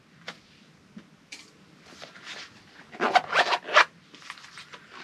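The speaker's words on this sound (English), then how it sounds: "And then it closes and has the fancy zipper pull." A bag's zipper with a fancy pull, tassel and crystal, being closed: faint scattered clicks, then a louder cluster of quick rasping zips in the middle, followed by softer ticks.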